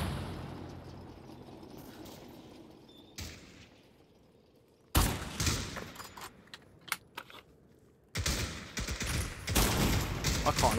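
Gunfire in the VR shooter Pavlov VR, set in a 1943 Tunisia battle map: sharp bursts of rapid shots and single cracks come in clusters, loud and close, separated by quieter gaps with low background rumble.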